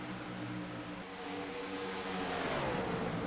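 Race cars in an ERSA Pro Series race at Atlanta Motor Speedway roar past side by side down the backstretch, a loud continuous engine drone with shifting pitch as the cars go by.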